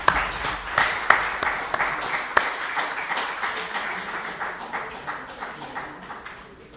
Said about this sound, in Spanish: Bueno, pues un aplauso.